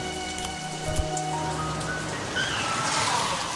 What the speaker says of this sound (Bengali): বাইরে খুব বৃষ্টি